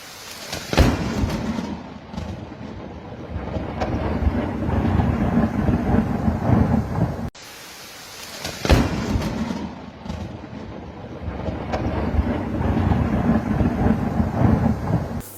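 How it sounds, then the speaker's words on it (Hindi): Heavy thunderstorm with pouring rain and lightning: a dense, steady roar of rain with low rumbling thunder swelling and fading, loud and close, occurring in two similar long bursts with a brief break between. "शदीद तूफ़ानी बारिश के दौरान गिरने वाली आसमानी बिजली"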